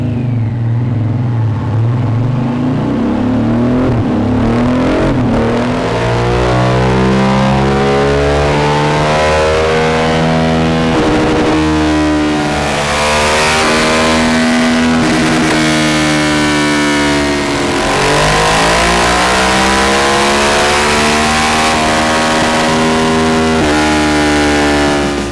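A Euro 5 2023 Harley-Davidson Sportster S engine revs hard on a dyno, loud and close, with pitch climbing repeatedly through long pulls and brief drops between runs, with no talking.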